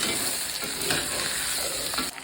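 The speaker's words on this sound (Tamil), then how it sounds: "இப்போது காய்கறிங்க கேரட்டு, பீன்ஸு, குடமிளகா இது 3 போட்டு ஒரு 5 நிமிஷம் நல்லா வதக்கணும்." Carrot, beans and capsicum sautéing in a pan for vegetable brinji, a steady close sizzle with stirring scrapes throughout, easing off near the end; no talk.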